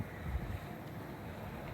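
Low, steady rumble of snowy winter wind in Yakutsk in late March buffeting the microphone, a continuous blustery whoosh with a slightly stronger gust near the start; no voices.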